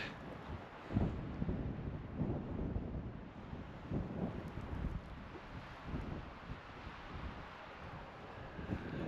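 Wind buffeting a microphone on a dirt trail outdoors, a rumbling low roar that swells and eases in uneven gusts throughout, fairly loud and with no speech.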